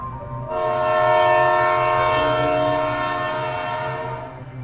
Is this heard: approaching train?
yes